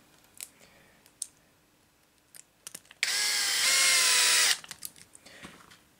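An electric screwdriver whirs in one sustained burst lasting over a second as it drives screws into an LC Racing 1/14 RC car axle kit, with small clicks and part handling before and after.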